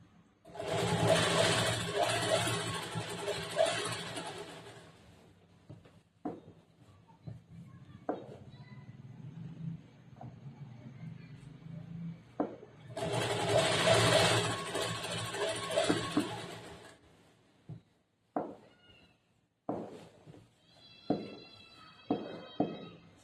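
A tailoring sewing machine stitches a churidar top in two long whirring runs, with softer handling noises, cloth shuffling and clicks between them.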